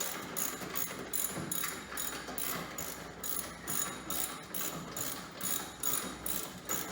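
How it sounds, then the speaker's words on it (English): A hand ratchet clicks in steady repeated strokes while backing out the last fender bolt on a 1950 Willys M38 Jeep, close and fairly loud, with no talking. "So let me just get this last bolt out of here."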